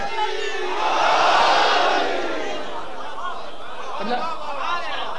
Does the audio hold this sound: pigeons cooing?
no